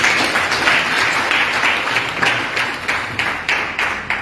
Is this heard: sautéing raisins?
no